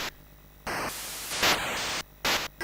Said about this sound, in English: The sound effects just kind of seem to amount to noise that hangs around for a while, like it's not working properly.